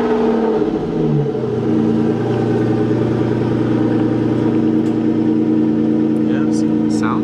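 An Aston Martin engine starts and settles into a steady, moderately loud idle with mild throttle swells, heard close up while people talk nearby.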